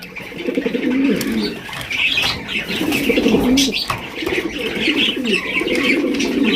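Racing pigeons of a high-quality breed cooing in low repeated throaty calls with occasional wing flaps, close and fairly loud, with no one talking.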